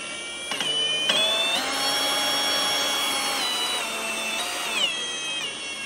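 A tire sanding power tool fitted with coarse grit pads runs steadily and loudly, its whining motor pitch stepping up and down as the speed changes, no talking.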